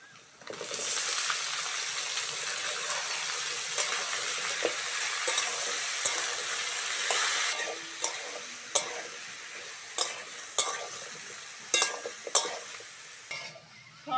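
Soybean chunks and potato fry with onion in a pan, a loud, dense sizzle for the first half, then quieter frying punctuated by several sharp clanks of a stirring spoon against the pan.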